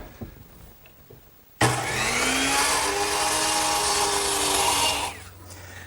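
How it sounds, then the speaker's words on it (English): A hand saw cuts a miter on a wooden garden bench rail in a miter box, one loud continuous sawing pass of about three seconds after a quiet start, then it stops, with no talking. "I'm going to have to miter the corner so that it'll intersect the miter of the other tenon. And I'll do that over here on my miter box."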